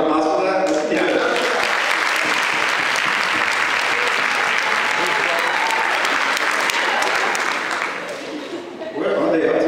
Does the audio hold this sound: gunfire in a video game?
no